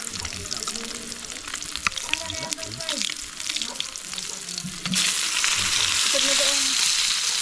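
Food frying in cooking oil in a rural home kitchen, crackling sizzle that swells into a louder steady hiss partway through, with faint voices in the background.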